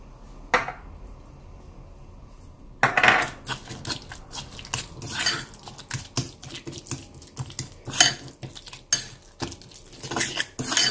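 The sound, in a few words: mixing tuna pizza filling in a bowl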